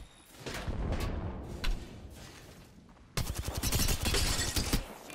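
Rapid gunfire in the Apex Legends shooter game, a flurry of sharp shots and thuds with a denser burst near the end, moderately loud with no talk.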